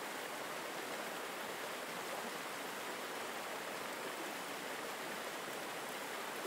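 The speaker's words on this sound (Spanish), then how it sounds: "Los sonidos suaves de la cascada y los murmullos del jardín forman un fondo sonoro constante" Soft, steady waterfall with garden murmurs, a constant broadband wash of falling water that holds an even level throughout with no other distinct events.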